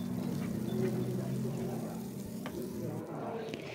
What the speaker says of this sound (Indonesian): Dan ini harus ditumis sampai berminyak supaya tidak langu.